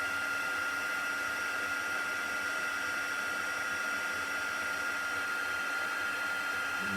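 A heat gun blows hot air onto embossing powder on a gold embossed Christmas card, a steady loud whooshing roar that holds unchanged throughout.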